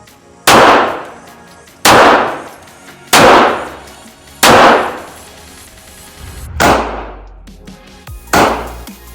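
Handgun shots fired at a shooting range, six sharp loud reports spaced roughly a second and a half apart, each ringing out with a short echoing decay and no talk over them.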